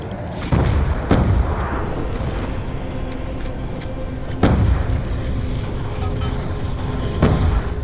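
Grenade explosions go off in a shooter video game, several heavy booming blasts spaced a few seconds apart, loud and close over a constant background rumble.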